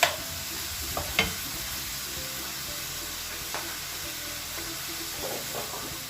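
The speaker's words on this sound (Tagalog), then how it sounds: "Hayaan muna natin maluto ang ating giniling." Ground meat frying in a pan for homemade nachos, a steady close sizzle with occasional clicks and scrapes of stirring, no talk.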